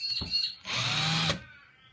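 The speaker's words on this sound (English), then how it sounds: "That's what your drill should sound like." A handheld power drill with a drill bit in the chuck, set to its lowest gear, gives a short whir and then a longer steady run of about a second. The motor is close and loud and spins down at the end.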